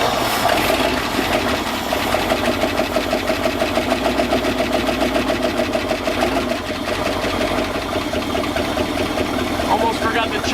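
A 1966 engine running off a jerry can settles into a steady, loud idle with a rapid, even mechanical chatter throughout, close by, with some talk over it.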